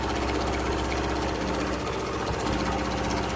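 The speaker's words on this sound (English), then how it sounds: "just do a quick stitch around to finish this design" Janome Continental M6 sewing and quilting machine running steadily while stitching a quilting design, a continuous close mechanical hum with a fast regular stitching pulse and no talk.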